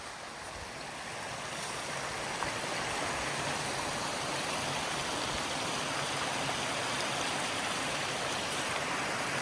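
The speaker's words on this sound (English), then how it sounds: "Pretty nice waterfall." A waterfall near a forest campsite on the Black Forest Trail gives a steady, loud, broad rush of falling water that swells slightly and then holds constant, with no voices.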